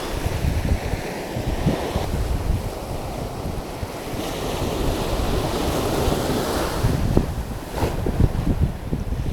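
Sea waves roll onto the shore at Manori, Mumbai, on a fishing outing: a steady, loud surf wash with gusting wind buffeting the microphone and a few stronger breaking surges.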